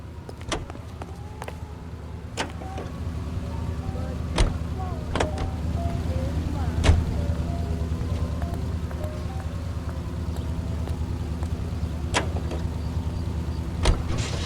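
A car drives in L.A. Noire, a steady low engine drone running throughout, with scattered sharp clicks and knocks on top and faint tonal game sounds in the background.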